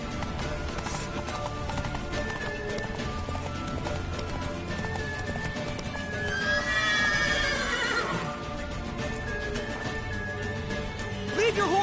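In The Witcher 3 a horse's hooves clip-clop steadily at a gallop, and a loud whinny rises midway over the hoofbeats, with game music and voices talking underneath.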